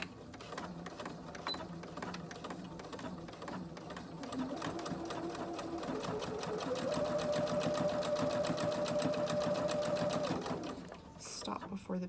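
A sewing machine stitches fabric near the presser foot in a fast, steady mechanical rattle that speeds up and grows louder, then stops near the end, while a person talks over it.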